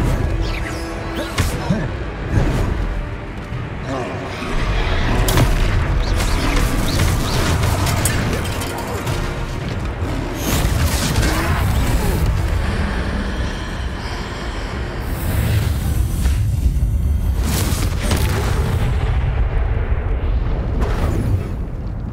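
Confringo blasting-spell explosions and crashing impacts during a troll fight in the Hogwarts Legacy video game, loud and continuous with booming rumbles, mixed with game voices and music throughout.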